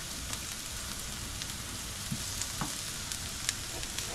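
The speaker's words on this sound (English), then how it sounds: "And in goes my garlic." Garlic hits hot oil with onion in a pan for Guyanese grey snapper stew, giving a steady close crackling sizzle with small scattered pops throughout.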